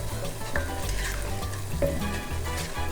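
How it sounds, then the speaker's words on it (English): Rice being stirred with seasonings and tomato sauce in a pan for restaurant-style Mexican rice, a close, steady sizzle broken by repeated scraping strokes of the spoon, with no voices. "So let's mix this together, all those seasonings."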